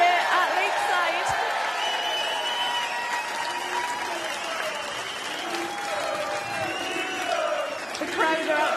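A darts crowd at the Lakeside world championship final applauding and cheering a new world champion, sustained loud clapping with whoops and shouts filling a large hall throughout.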